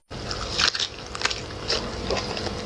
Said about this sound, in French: C'est croquant, c'est très très très bon.